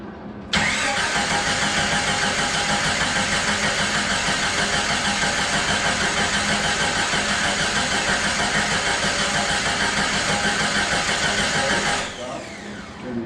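A Jeep engine cranks and catches, then runs at a loud, steady idle for about eleven seconds before being shut off, with no talking over it.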